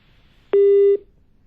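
A single steady telephone busy tone sounds on a phone line after a caller on a live TV call-in segment is cut off, lasting about half a second, clear and alone over quiet background.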